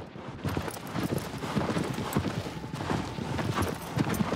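Horse hooves clip-clop steadily in Shadow of the Colossus as the mount trots along, a continuous close rhythmic stream of muffled beats at moderate volume.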